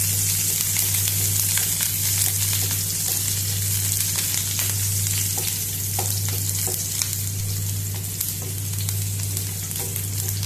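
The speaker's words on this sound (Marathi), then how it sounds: "आतां हो कांदो बरो फ्राय जावनी" Onion sizzling and frying in a pan for a Goan moong bean curry, a loud steady crackle with occasional stirring scrapes and a low hum underneath, no speech.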